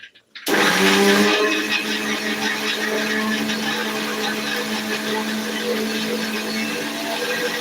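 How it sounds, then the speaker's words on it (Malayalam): A mixer grinder blends grated coconut with water into a paste for a Kerala-style seer fish curry. The loud, steady motor whir with a grinding rattle kicks in after a brief quiet start and runs continuously, with no talking. "ഇനി ഇത് മിക്സി വെച്ച് നമുക്ക് നന്നായിട്ടൊന്ന് അരയ്ക്കണം"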